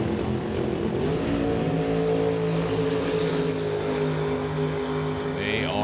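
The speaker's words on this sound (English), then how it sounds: "So it's the black Chevelle that leaves the line about 3/10 ahead of" Drag racing launch of a black 1968 Chevelle against a white 1953 Corvette at a summit ET series event; a loud, sustained engine roar holds steady and slightly rising, with continuous droning harmonics from the strip.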